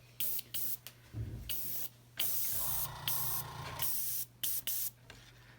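An airbrush sprays paint while its compressor runs, giving repeated short bursts of airy hiss separated by brief pauses, with longer sustained sprays in the middle; the compressor is fairly quiet and close by.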